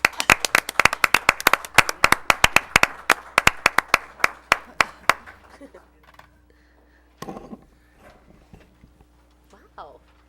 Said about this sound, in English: Should we clap? Yeah, that'd be fun.